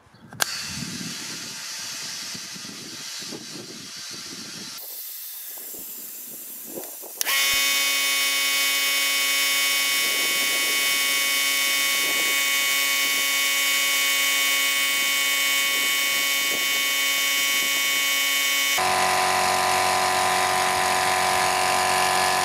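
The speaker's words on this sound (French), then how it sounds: "On va voir le temps de remplissage d'un pneu de voiture de 0 à 3 bars." A Parkside PSKO 248 A1 oil-free 24-litre quiet compressor inflates a 225/50 R17 car tyre from 0 to 3 bar. It gives a loud, steady motor drone with airy hiss that shifts character partway through and again near the end, with no talk.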